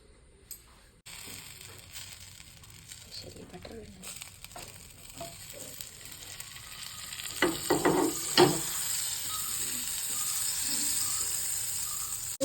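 Butter heats and sizzles in a pan for an unsalted fluffy omelette, a soft hiss that builds steadily louder with a few sharp crackles and stirring sounds near the middle.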